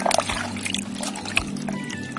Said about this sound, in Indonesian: Pertama, aquanya kita isi air terlebih dahulu.